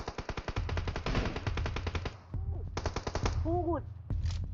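Rapid automatic gunfire in the battle royale video game PUBG, loud and close, with dense bursts of shots, a short gap, then more bursts, alongside brief chirping game sound effects.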